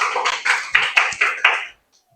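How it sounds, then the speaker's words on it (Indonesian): Students applauding in a classroom: a short, rhythmic burst of about six or seven sharp group claps that stops abruptly, leaving near silence. "Beri tepuk tangannya"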